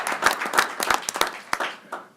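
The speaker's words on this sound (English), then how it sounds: "I want a special round of applause just for that." A brief round of hand clapping rises and fades from the audience at a county freeholder reorganization meeting, with scattered individual claps trailing off.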